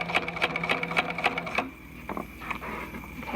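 A domestic sewing machine stitching zippers and pockets runs in a fast, rhythmic mechanical chatter for a moment, then stops, leaving only a few quieter clicks and handling noises close by.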